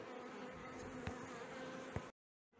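Honeybees at a hive during a formic acid treatment hum in a steady, fairly faint drone close by, with a couple of soft knocks before the sound cuts out.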